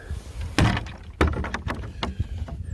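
Door being opened and held open at a snowy chicken coop in freezing weather, two sharp thumps followed by creaks and rattles, close and clear without voices.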